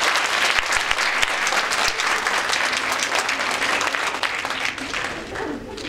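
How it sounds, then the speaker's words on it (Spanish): An audience at a women-and-girls-in-science event breaks into loud, dense applause that holds steady for several seconds, many hands clapping at once before easing off slightly at the end. "Denle un aplauso, por favor."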